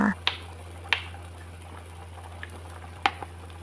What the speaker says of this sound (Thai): พอเราตุ๋นหมูนะคะได้ที่แล้วนะคะ จนหมู เริ่มเปื่อยนะคะ